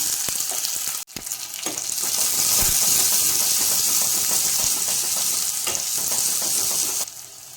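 Loud, steady sizzling of chopped shallots hitting hot oil, with a sharp burst at the start and a few stirring clatters throughout.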